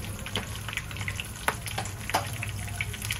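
Steady close sizzling of a tempering of chili, curry leaves and asafoetida frying in hot oil, with crackles and sharp pops scattered throughout.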